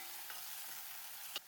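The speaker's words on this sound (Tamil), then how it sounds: "வேக வச்செடுத்த வெள்ளரிக்காய் சேர்த்துட்டு ஒரு வாட்டி மிக்ஸ் பண்ணி விட்டுடலாம்." Boiled cucumber is stirred in a pan for an Onam sadhya dish, a faint soft scraping and light sizzle with a small clink near the end, no voices.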